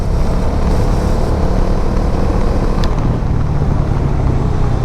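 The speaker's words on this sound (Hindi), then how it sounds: "बाइक को अगर आप 6 गियर पे भी 50 के स्पीड से अगर आप फुल यानी कि पिकअप देने का कोशिश करेंगे" A Bajaj Dominar 400 motorcycle with a 349cc engine pulls hard in sixth gear from about 50, its engine giving a loud, steady, dense roar with no break for the whole stretch.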